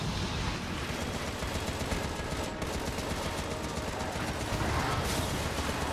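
Machine gun fire in the video game Contra: Rogue Corps, a dense continuous loud barrage of rapid shots layered with game effects, sustained throughout with no pause.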